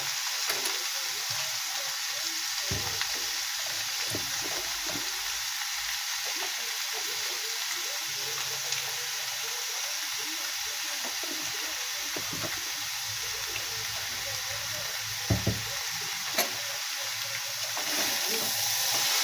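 Fig curry sautéing in a pan with a little sugar added, a steady close sizzle of frying that runs unbroken throughout, with a few soft stirring knocks and no talking.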